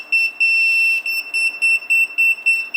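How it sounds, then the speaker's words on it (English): A Retekess T119 restaurant pager beeps loudly up close: a long continuous shrill tone, then a quick run of short evenly spaced beeps, with no talking. "Lights with the beeper, right?"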